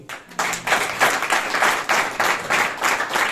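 A church congregation applauds in a steady burst of clapping that starts softly and swells into sustained, fairly loud applause with rhythmic pulses, no talking over it.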